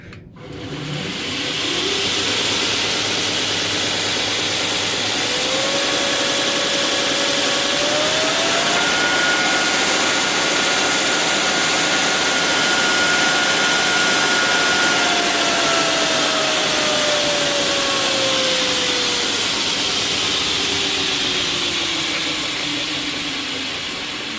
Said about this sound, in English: It's still going at a very fast speed. But yeah, it is a very powerful grinder.